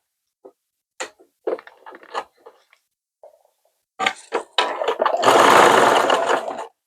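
A sewing machine stitches a strip of cloth onto a keski, with scattered handling clicks and taps first, then short bursts of rapid needle chatter and a longer loud continuous run.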